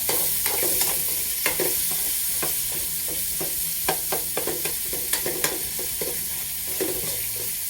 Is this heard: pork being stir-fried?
yes